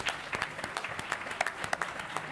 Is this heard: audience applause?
yes